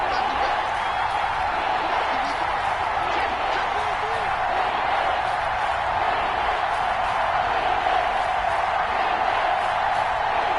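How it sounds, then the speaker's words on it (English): Stadium crowd in an American football video game, a steady, loud, dense roar that holds level throughout with no breaks, likely under commentary. "That just means this crowd's going to get even louder"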